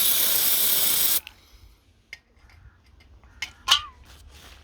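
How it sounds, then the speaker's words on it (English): A short, steady hiss of degreaser sprayed from a can onto a bicycle's pivot bearing seal, followed by quiet handling clicks and faint knocks. "A little spray of degreasing."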